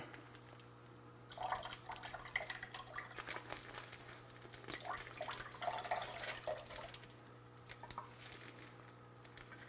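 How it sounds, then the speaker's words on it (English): Water drips and trickles into a sink from squeezed potting mix in quick irregular patters, faint and close over a low steady hum. "Squeeze all the water out of it."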